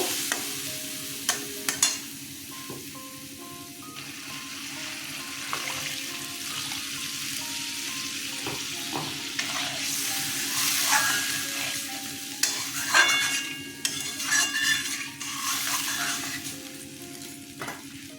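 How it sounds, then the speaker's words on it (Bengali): Water poured into sautéed tomato masala for a katla fish curry, a continuous sizzle rising into louder bubbling and splashing partway through, with occasional utensil clinks, close up and without talk. "কষানো হয়ে গেছে জল দিয়ে দিচ্ছি আর একটু জল দেবো"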